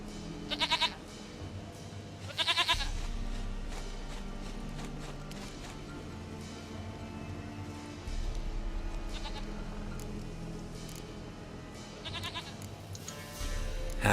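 A goat in The Witcher 3 bleats in several short wavering calls spread through the scene, over a steady low game ambience with faint hoof-like clatter.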